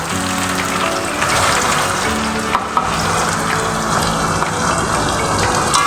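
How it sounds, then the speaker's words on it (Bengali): Chopped onions fry in hot oil with whole garam masala for a mutton curry, a loud, close, steady sizzle with occasional stirring clatter, no voices. "পেঁয়াজটাকে আমি খুব সুন্দর করে লাল লাল করে ভেজে নেব"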